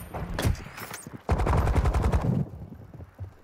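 Gunfire from Call of Duty: Modern Warfare II, with rounds shot through doors: a few sharp single shots, then a dense, loud burst of rapid automatic fire lasting about a second, fading into quieter room noise.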